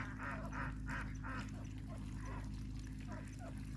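Large ducks calling at a dam: a run of four nasal honks in quick succession, then a few scattered calls, moderately distant over a steady low hum, with a voice talking across them.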